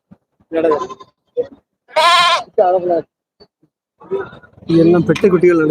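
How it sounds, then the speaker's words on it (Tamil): Sheep bleat in loud separate calls at a busy Tuesday goat and sheep market in Melapalayam, with several long wavering cries close by between short gaps and people talking nearby. "எல்லாம் செம்மறி தான்"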